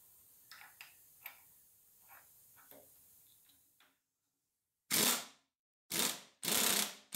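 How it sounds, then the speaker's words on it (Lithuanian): Ratchet torque wrench turning bolts on an OMC 235 outboard engine, faint scattered clicks at first, then after a pause three loud close bursts of rapid ratcheting. "po beveik paros laiko bandau tą 14 Nm kampuose dabar pasukti"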